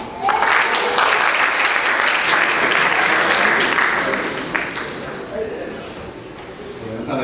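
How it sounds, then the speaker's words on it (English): An awards-ceremony crowd gives a steady, sustained round of clapping for a student athlete, holding fairly even before gradually tapering, with no break or talk over it. "a golf clap for Kyle Lee"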